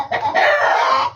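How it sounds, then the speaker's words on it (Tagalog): Caged chickens give one loud, close burst of clucking that rises into a crowing call, about a second long, with no voices. "Mga manok, nakakulong ngayon dyan"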